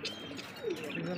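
An Iranian pigeon, one of a pair, gives a soft, brief coo that is faint against a quiet background.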